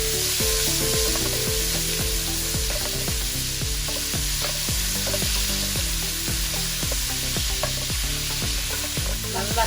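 Prawns fry over a high flame in a pan, a constant loud hiss and sizzle broken by regular scraping strokes of a stirring spoon, close up with no talk.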